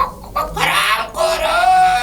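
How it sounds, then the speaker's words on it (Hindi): A rooster crows in a long, loud, drawn-out call that rises and holds over a couple of seconds, close to the listener, with a broad noisy edge and nothing else competing. "अरे मुर्गा है ये।"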